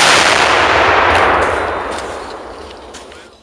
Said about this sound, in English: Fixing to be fire in the hole.